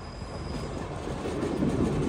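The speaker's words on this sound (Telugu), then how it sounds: "గత 15 నిమిషాల నుంచి చాలా స్లోగా అయితే వెళ్తుంది ట్రైన్." Jammu to Tirupati Humsafar Express train running slowly, a low steady rolling rumble of carriages on track with faint clickety-clack, no voices.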